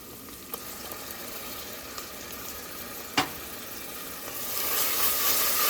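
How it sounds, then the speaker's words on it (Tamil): Onion and ginger garlic paste sautéing in a pan for a coconut milk chicken stew, a steady close sizzle with a few sharp taps that swells louder toward the end. "பார்த்திங்கன்னா நமக்கு வெங்காயம், இஞ்சி பூண்டு விழுது எல்லாம் சேர்ந்து வதங்கிட்டு இருக்குங்க"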